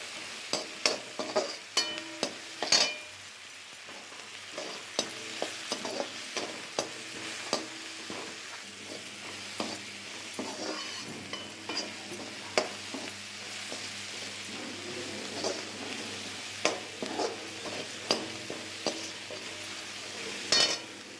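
A spoon scrapes and clinks steadily in a pan while ivy gourd masala with salt, turmeric and asafoetida sizzles underneath, close up with no talking.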